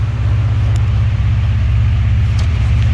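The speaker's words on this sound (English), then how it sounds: "the car is still running fine" A Honda Civic with an H2B engine idles with a steady, low rumble that goes on without change, a constant deep hum with no voices over it.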